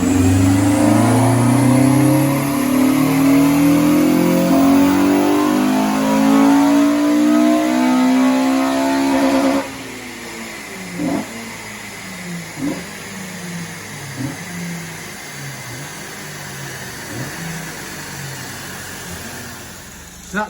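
A Honda Civic FN2 Type R with an Ecutek remap revs on a dyno, the engine climbing steadily in pitch for several seconds before cutting off, leaving quieter pops and mechanical noise at close range.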